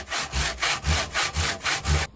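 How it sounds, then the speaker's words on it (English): Hand saw cutting through wood for a bridle joint, close and clear, with about seven even rasping strokes in a steady back-and-forth rhythm. "Your saw cut will wander the deeper into a particular cut you go."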